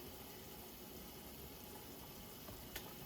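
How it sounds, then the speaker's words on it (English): A steady, soft bubbling and hissing of water at a boil in a pressure cooker pot, continuous and quiet with no voices. "All of it is boiling now really well."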